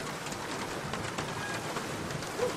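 Steady video-game rain hisses evenly throughout a stormy nighttime scene, dense and close, with no voices and no distinct drops standing out.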